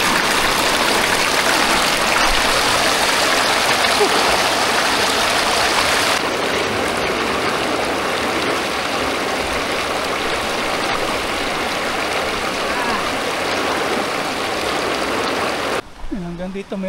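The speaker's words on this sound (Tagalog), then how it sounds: "Kakatuwa po pakinggan yung lagaslas ng tubig, oh." A babbling stream of flowing water rushes steadily and close by along a walking path, a broad continuous wash that stays loud and even until it cuts away near the end.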